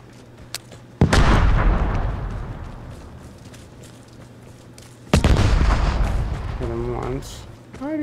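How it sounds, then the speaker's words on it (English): Two heavy booming blasts from a radiation grenade in the video game Vigor, each striking sharply and rumbling away, with a voice talking between them. "He threw his own radiation grenade on himself."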